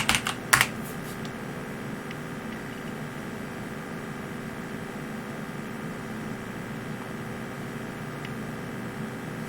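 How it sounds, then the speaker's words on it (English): Typing on a computer keyboard while entering commands on a Raspberry Pi 4: a short burst of close key clicks at the start, then sparse faint taps over a steady background hum. "let's just type in the commands"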